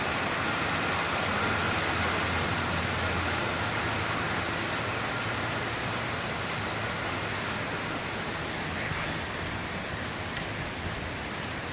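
Steady rain falls and streams off a house in Springfield as a storm eases, a dense, even wash of water noise running unbroken and fairly loud throughout.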